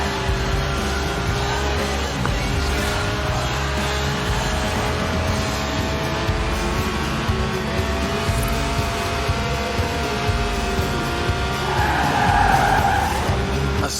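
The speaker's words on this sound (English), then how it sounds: "A serious slide there." A race car's 1.8-litre engine, revving to 8,000 RPM, roars continuously as tires screech in a long, loud skid that swells near the end.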